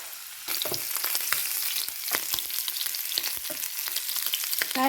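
Continuous sizzling and crackling of prawns and potatoes frying in a pan, close and steady, with scattered sharp pops throughout.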